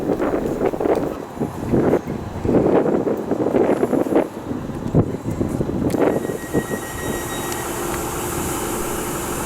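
A Northern train to Blackburn rumbles steadily as it pulls away from a station on the Wigan to Kirkby line, with wind buffeting the microphone throughout.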